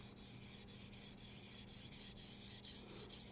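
A knife edge is drawn heel to tip across a sharpening stone in a steady, even rhythm of about seven close, soft rasping strokes with no talk.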